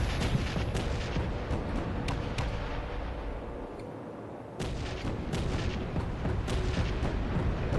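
Dense, continuous barrage of gunfire and heavy impacts striking the player in the Space Engineers video game, loud and sustained with a brief lull midway before the pounding resumes, no speech over it.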